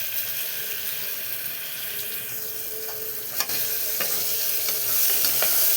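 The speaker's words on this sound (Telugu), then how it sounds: "పచ్చివాసన పోయేంత వరకు ఇలా వేపుకుందాము." A spoonful of ginger, garlic and coriander paste fries in a hot pan with a constant close sizzling hiss, broken by a few sharp clinks and scrapes of stirring. No one speaks.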